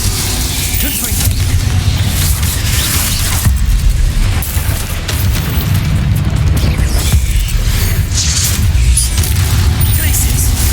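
Spell blasts and explosive booms from magic combat in the Hogwarts Legacy video game, a dense, continuous barrage of loud impacts and rumbling effects over a game soundtrack, with spells cast in quick succession.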